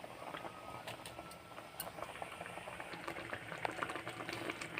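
Water for roti batter boils steadily in a pot, a continuous bubbling hiss with small pops and gurgles up close, fairly quiet and alone with no voices.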